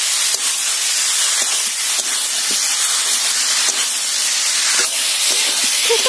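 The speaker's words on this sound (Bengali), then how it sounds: "এখন আলু খুব ভালোভাবে কষিয়ে নেব। উনুনের আঁচ একটু হালকা আঁচে রেখে কষিয়ে নিতে হবে," Potatoes stir-frying in a pan over low heat for a fish curry, a steady close sizzling hiss with faint scraping from stirring.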